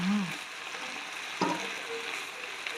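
Squid and holy basil stir-fry in a hot pan, a soft continuous sizzle with an occasional spatula clatter and scrape, stirred awkwardly with one hand; no talking.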